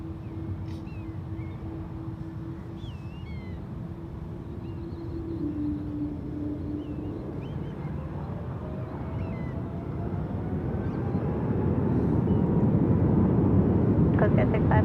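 A United Boeing 777-200ER takes off on runway 28 left at San Francisco International Airport. Its distant jet roar swells into a loud, broad rumble over the last few seconds while radio voices talk over it.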